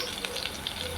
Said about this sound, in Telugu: చూడండి, ఫ్రై అయిపోయింది తాలింపు